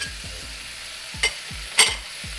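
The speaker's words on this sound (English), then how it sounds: "I'm going to add a whole bunch of chopped green onions to the mix." Chopped green onions hit a hot pan with pork lo mein, giving a steady background sizzle with low repeated thumps and two sharp scraping stirs near the middle.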